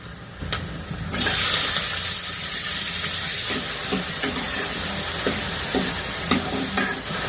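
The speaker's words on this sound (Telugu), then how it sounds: "ఇప్పుడైతే టమాటా వేసుకుందాం." Tomatoes drop into a hot pan for a village-style mushroom and bean curry, setting off a loud, steady sizzle of frying with occasional stirring clinks, close and continuous after the initial burst.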